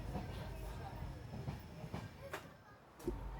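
Passenger train pulling into platform number 1 at Udupi station, a steady low rumble with faint clicks and a couple of brief brighter bursts, voices faintly in the background.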